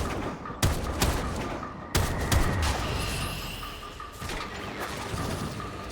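Gunfire against enemies in the video game Warframe, sharp shots and crackling bursts over a dense, busy layer of game effects, loud and continuous.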